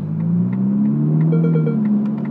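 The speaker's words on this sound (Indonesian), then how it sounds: "Karena aliran suara dari knalpot itu agak ketahan sama turbo." Turbocharged Ferrari Roma exhaust drones low and steady while driving, a muffled rumble with a slight rising pitch, close and continuous, with no talk.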